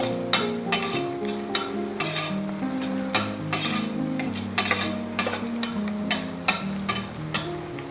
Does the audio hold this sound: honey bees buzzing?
no